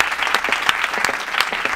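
Short burst of dense audience applause from a crowd, loud, close, steady clapping lasting under two seconds.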